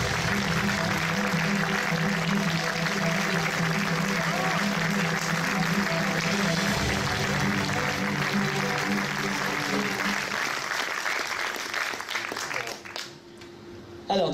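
An ovation for Daniel Prévost at the opening of the FIFFH 2017 festival: loud, sustained applause from an audience fills the hall, with music or voices beneath, before tapering off near the end.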